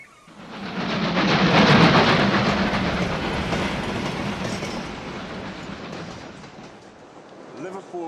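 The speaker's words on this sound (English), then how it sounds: "Liverpool Street Station." A train rumbles through Liverpool Street Station in London, swelling quickly to a loud clattering roar of wheels and carriages, then easing off with a faint squeal near the end.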